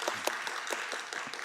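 A church congregation at a 2023 youth winter retreat evening service applauds together, a steady wash of many hands clapping at moderate volume throughout the short burst.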